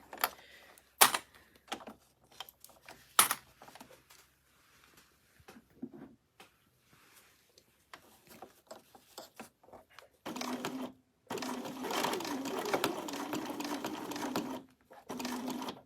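A sewing machine with a zipper foot stitches a fabric unicorn bag in several separate bursts, then runs in longer continuous whirring stretches, loud and close with short pauses and no talking.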